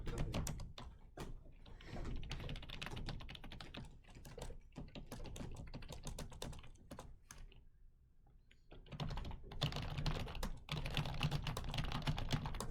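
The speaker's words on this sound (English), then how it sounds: "I'm such a good typer." Steady rapid typing on a computer keyboard, with dense clicking keystrokes running through most of the stretch, a short lull near the middle, then fast typing again, close and fairly loud.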